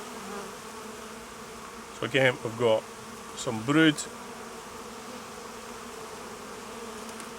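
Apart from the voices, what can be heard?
honey bees buzzing around beehive frames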